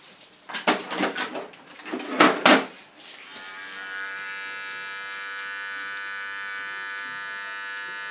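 An electric hair clipper shaves a mohawk, first a few rough bursts of cutting and handling noise, then a steady bright motor buzz running alone.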